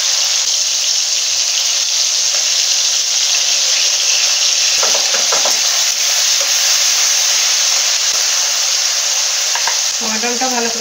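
Chopped tomato sizzles loudly and steadily in a hot pan over oil tempered with kalonji seeds, for mustard-poppy seed hilsa curry, with scraping stirs breaking through around the middle and the end; no voices.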